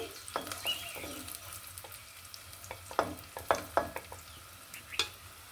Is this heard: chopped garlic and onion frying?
yes